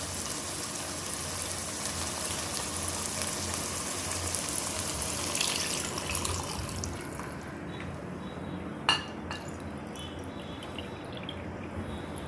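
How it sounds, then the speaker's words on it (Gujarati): Water is poured in a steady, close hiss for several seconds into a pan of sautéed vegetables for upma. The rushing then cuts off, followed by a sharp clink and quieter kitchen rustling. "હવે આપણે એમાં પાણી એડ કરીશું।"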